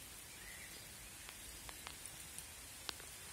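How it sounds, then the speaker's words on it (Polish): Steady outdoor rain falls as a constant faint hiss, with a few scattered louder drops ticking on nearby surfaces. "No, deszcz pada"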